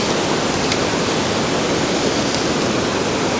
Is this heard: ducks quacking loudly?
no